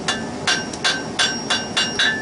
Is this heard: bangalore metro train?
no